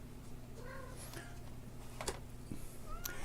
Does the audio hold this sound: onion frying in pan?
no